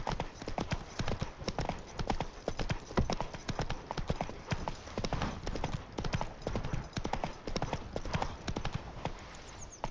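Roach the horse from The Witcher 3 gallops in a dense, continuous drumming of hoofbeats, loud and close throughout, with a brief whinny and some faint talk.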